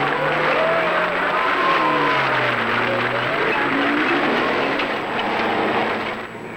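Night crowd in Tehran seeing off cars on the London to Sydney Rally: steady, dense clapping and cheering with a wash of noise and sliding engine tones from passing cars, loud and continuous throughout.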